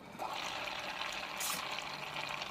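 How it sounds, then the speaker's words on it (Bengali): Water streams steadily into a simmering fish curry with potatoes in a home kitchen, a soft continuous pouring and splashing sound, fairly faint and without talk. "পানি দিয়ে দিলাম।"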